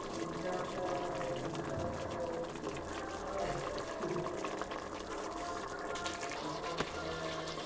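Water pours steadily into a cooking pot for a tomato bath rice dish, a continuous close splashing stream with a person speaking over it.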